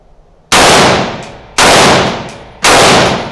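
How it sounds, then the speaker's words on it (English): AR-style rifle fitted with a 7.62 upper fires three loud, sharp rounds about a second apart, each crack followed by a ringing decay. "Three quick rounds with that one."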